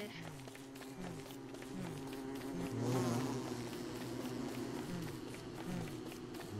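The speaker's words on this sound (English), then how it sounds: "That's a bee." Low, droning buzz of bees from the survival game Don't Starve Together, humming steadily at moderate volume with pulsing overtones and faint footstep-like taps beneath.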